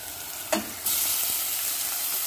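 Ground meat sizzles in a hot pan for a home-cooked miswa noodle soup, a brief stir clatter giving way to a steady, close frying hiss.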